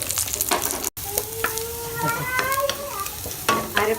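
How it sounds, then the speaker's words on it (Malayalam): Mustard seeds spluttering in hot oil with dried red chillies and curry leaves for tapioca thoran: close crackling pops and sizzle, with a few sharp bursts scattered over a soft frying hiss. "കടുക് പൊട്ടി"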